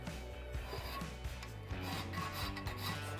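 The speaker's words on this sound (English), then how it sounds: "I'm just going to knock off the burrs now. I'll use a small file." A small hand file rasps steadily against a motorcycle's metal front hub, an Aermacchi, knocking off burrs in close, continuous back-and-forth strokes with no talking.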